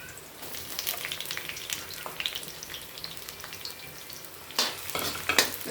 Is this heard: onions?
yes